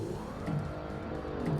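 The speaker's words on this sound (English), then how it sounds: "And I've just revved it up straight away." A car engine in the Forza Motorsport racing game revs sharply twice in quick succession, loud and close, with no talk over it.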